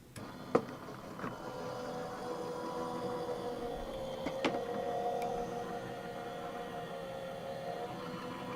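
A dry embossing machine feeding a sheet of paper through, giving a steady low mechanical hum with a few sharp clicks and knocks near the start and middle, moderately quiet and close with no talk.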